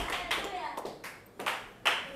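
A church congregation claps in a slow, faint rhythm, a few separate bursts of hands roughly half a second apart with soft voices underneath.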